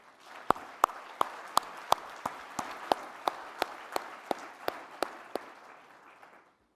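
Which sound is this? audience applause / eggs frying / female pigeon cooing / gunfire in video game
audience applause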